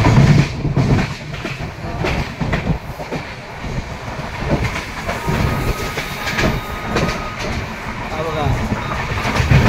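A Mangala Express train runs along its tracks, giving a continuous loud rumble with rhythmic clickety-clack wheel beats close by, while a voice talks over it throughout.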